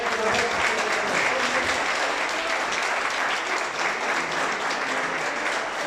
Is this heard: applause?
yes